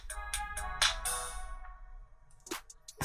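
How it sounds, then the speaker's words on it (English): Sony Ericsson T610 mobile phone ringtone playing a bright, tinkly melodic sequence of short notes, fairly close and clear, with a brief pause before a few final chiming tones. "Oh yes, this is it! That's the ringtone."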